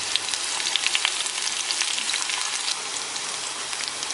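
Shallots and dried red chilies crackle and sizzle in hot oil with mustard seeds and curry leaves for a coconut chammanthi tempering, a dense, steady frying hiss close to the pan with small spattering pops, no voices.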